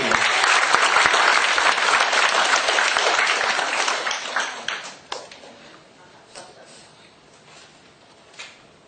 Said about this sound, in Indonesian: Beri tepuk tangan dong kepada Habibi.